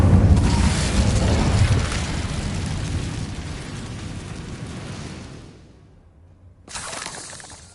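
The Incendio fire spell is cast in a wizarding video game, a loud burst of fiery crackling and shattering that roars at the start, slowly fades over five seconds to near silence, then a second rush of sound briefly returns.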